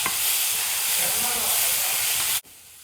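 Sautéed onions and ground masala for a prawn curry sizzle loudly and steadily in a pan as they are stirred, the close frying hiss cutting off abruptly near the end.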